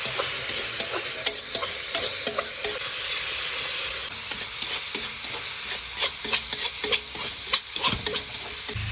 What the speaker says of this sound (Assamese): উল্লিটো ভাজিব লাগিব এতিয়া